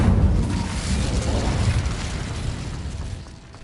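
An Incendio fire spell blasts in Hogwarts Legacy, a dense, loud roaring burst that starts at full force and gradually thins out over a few seconds.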